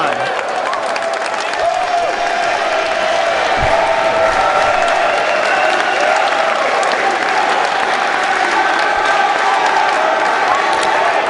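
A wrestling crowd at a DGUSA Untouchable 2011 match between Johnny Gargano and Akira Tozawa, loud sustained applause and cheering that roars continuously throughout, with commentary voices faintly underneath.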